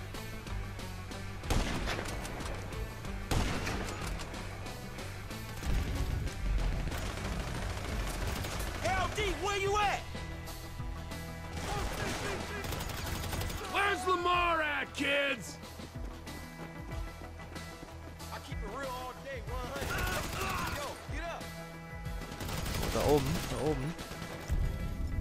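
Gunfire in the video game GTA V: bursts of shots and mechanical clatter mixed with game ambience, while someone talks over much of it in short phrases.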